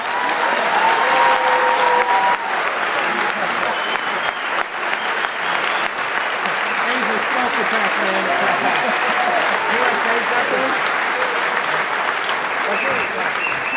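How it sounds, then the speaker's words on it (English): Sustained audience applause at the DEF CON 22 closing ceremonies, a large crowd clapping loudly and steadily for over ten seconds with occasional cheers mixed in. "And so if we could get a round of applause."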